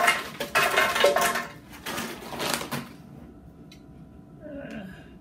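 Frozen fruit pieces dropping into a blender jar, a few clattering hard knocks in quick bursts up close, then quieter clinks and faint rustling.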